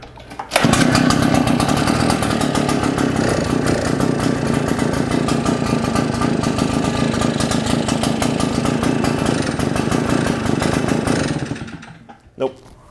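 A Shindaiwa EB802RT backpack leaf blower's two-stroke engine, run without air cleaner or spark arrestor, roars steadily at high revs, loud and close, before cutting off near the end followed by a brief clunk.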